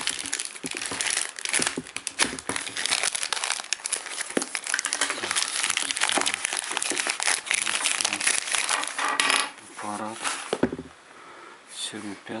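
A plastic packaging bag crinkles and rustles loudly and almost continuously as a Xiaomi Mi5 phone is unwrapped up close, while someone speaks over it.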